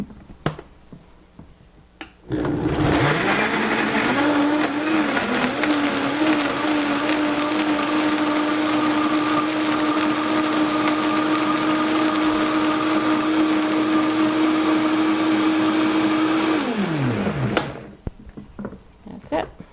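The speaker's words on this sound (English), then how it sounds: "Use your Vitamix again." A Vitamix blender kicks on sharply, runs at a loud, steady high whine for about fifteen seconds, then winds down and stops, with quieter clatter before and after.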